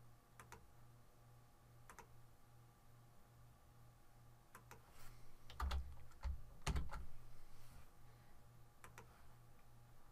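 Keys tapped on a computer keyboard entering a shortcut while inserting an EndNote citation, a few sparse clicks followed by a quick cluster of presses near the middle, close and fairly quiet over a faint steady electrical hum.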